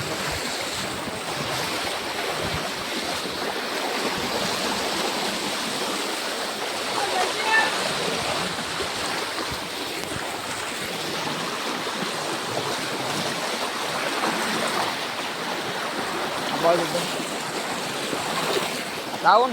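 Floodwater rushing over a double road during heavy rain in Kevdapara village, Gujarat, a steady broadband roar of flowing water that stays loud and continuous throughout, with a few brief louder splashes.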